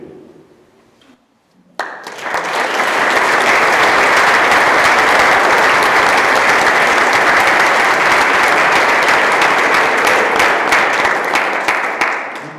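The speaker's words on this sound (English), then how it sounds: "You can't clap after every poem." After a short quiet start, a large audience at a poetry reading breaks into loud, sustained applause, dense and continuous for about ten seconds before easing slightly at the end.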